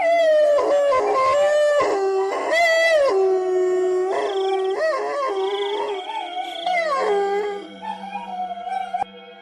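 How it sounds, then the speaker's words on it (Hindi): A pack of dogs howls and yips in a long, wavering chorus, loud and close, the rising and falling wails overlapping with short barks before trailing off. "सभी कुत्ते भी उसका पीछा करने लगते हैं।"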